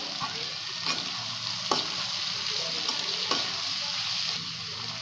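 Onions and capsicum sizzle steadily in a pan while a spoon stirs them, scraping the metal in a few distinct strokes over the constant frying hiss.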